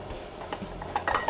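A spoon scraping and clinking against a pan while scooping up dipping sauce, a few quick close metallic taps and scrapes over a short moment.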